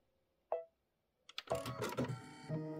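A sewing machine stitching a mini quilt gives one short mechanical clack, goes quiet, then runs in a close burst of rapid stitching with uneven clatter.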